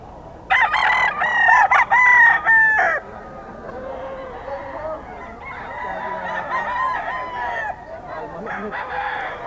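Gamefowl roosters of the white gold sweater bloodline crow loudly up close, one strong crow in the first few seconds followed by fainter crows and clucking from other birds, with some people talking in the background.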